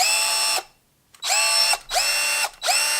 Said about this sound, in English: Speed 2. That is a nice, quiet motor.